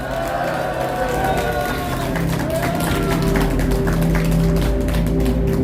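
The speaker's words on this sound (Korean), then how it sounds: "환영의 박수 부탁드립니다." A crowd welcomes a speaker at a political party gathering, applauding steadily, the clapping dense and continuous throughout, with some voices and murmurs mixed in.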